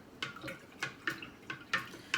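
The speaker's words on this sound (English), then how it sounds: "I'm going to give it a good stir" Water and lime mixture is stirred for water glassing eggs, a series of soft swishing sloshes at a steady rhythm, about eight strokes, close and fairly quiet with nothing else.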